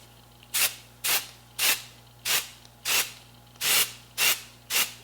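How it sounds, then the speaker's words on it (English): Eight short bursts of makeup setting spray misted onto a face in a steady rhythm, each a soft hiss lasting about a third of a second, close by with a faint hum underneath. "I'm just blindly spraying my face with air"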